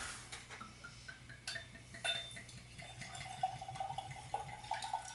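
Famous Grouse Smoky Black whisky poured into a glass, a soft trickling stream with light clinks of glass, steady and close, without voices.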